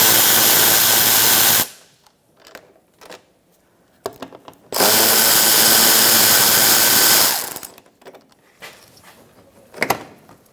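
A power tool whirs in two long, loud bursts as it takes off aftermarket bolts on a 2004-2009 Mazda 3 during front CV axle work, with clanks and handling noises in the quiet gaps between.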